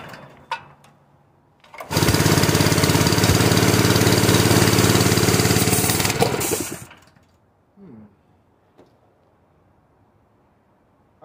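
A portable gasoline air compressor engine converted to run on propane roars steadily and loudly for about five seconds, then cuts out, leaving near silence with a few faint knocks afterward.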